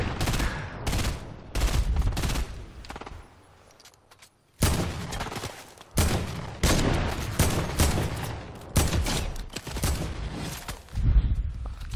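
Gunfire in the video game Fortnite crackles in repeated rapid bursts of automatic shots, loud and close, broken by a brief lull and scattered single reports.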